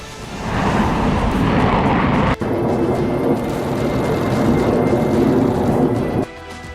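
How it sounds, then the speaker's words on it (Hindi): An F-35 supersonic fighter jet roars loudly and continuously, a dense broadband rumble with a brief dip partway through and a drop near the end. "अमेरिका ने यूरोप के सभी 6 बेस पर F-35 लड़ाकू विमान तैनात कर रखा है।"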